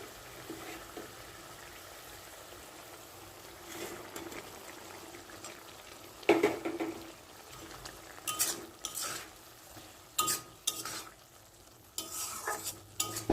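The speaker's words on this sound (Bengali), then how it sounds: "এবারে দিয়ে দিচ্ছি ভেজে রাখা মাছগুলো" Fried small fish dropped and stirred into a boiling sour fish curry in a pan: a low simmering bubble, then sharper clatters and splashes from stirring, close and without speech.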